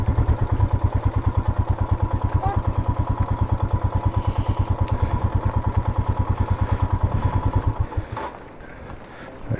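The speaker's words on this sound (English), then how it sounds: "Let's just kill the engine and let them pass." A motorcycle engine runs steadily on a mountain road in the Indian Himalaya, loud and close with a fast even pulse, then drops to a lower idle near the end.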